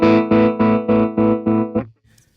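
Guitar chord pulsing through a Chase Bliss Gravitas tremolo pedal in sine-wave mode, six smooth rhythmic swells close and loud before the sound cuts off into near silence.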